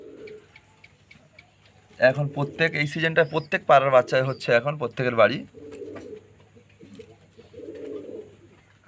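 Pigeons give soft, low coos, faint and close, before and after a stretch where someone talks at length over them.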